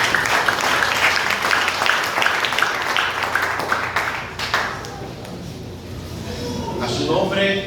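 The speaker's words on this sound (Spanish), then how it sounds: "Pueden sentarse dando un fuerte aplauso al Dios de la gloria." A church congregation claps in a dense burst that thins after a few seconds, with some brief voices and sounds near the end as the applause fades.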